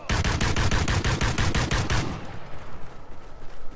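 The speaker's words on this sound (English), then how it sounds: "Oh, it's a single shot? Oh man, I thought it was a fully automatic." Rapid burst of gunfire from a single-shot gun in Call of Duty: Ghosts gun game mode, loud and repeating for about two seconds before cutting off into quiet background.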